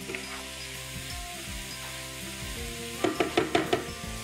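Chopped vegetables with finely diced seeded tomato and green chillies sizzle softly in a pan, with a few sharp utensil knocks near the end.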